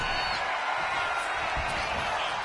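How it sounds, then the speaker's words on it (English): A crowd roars in the WWE 2K26 wrestling video game, a dense, steady wash of cheering that holds at the same loud level throughout. "And Psycho Clown is getting the crowd going"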